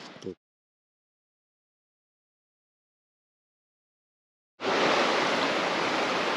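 The Virgin River in Zion rushing steadily over rocks, a loud continuous wash of water that cuts in abruptly after a long stretch of silence.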